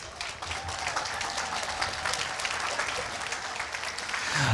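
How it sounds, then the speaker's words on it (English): A crowd at the Marion County Veterans Day ceremony applauds warmly, a full, steady wash of clapping from many people that swells slightly near the end. "You also deserve a round of applause"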